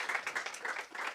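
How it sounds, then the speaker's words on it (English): Audience applause at a forum on sustainable robotic technologies, a steady wash of many hands clapping together, fairly faint and distant, with no voices over it. "A round of applause for Wart."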